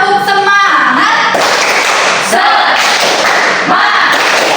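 A class of schoolchildren perform the 'tepuk semangat' clapping chant in a classroom: loud, dense bursts of clapping with voices chanting along, close and filling the room.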